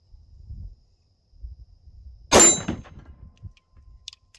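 A single sharp report from a RIA TAC Ultra 10mm pistol firing Fiocchi ammunition, a sudden loud crack with a short ringing tail over quiet outdoor background rumble.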